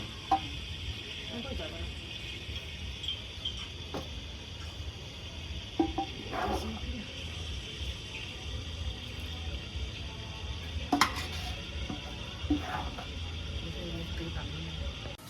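Dry chilli, bay leaf and panch phoron frying in white oil, a soft steady sizzle with occasional stirring clinks and scrapes, faint and continuous under a voice talking.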